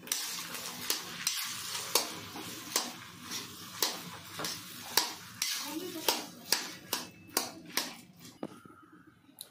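Spiced potato samosa filling stirred in a pan, a series of rhythmic scraping and tapping strokes over a faint sizzle, close and quiet.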